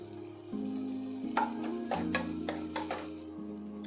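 Grated ginger sizzling in a hot pan over a steady frying hiss, with several sharp stirring scrapes and taps partway through; no talking.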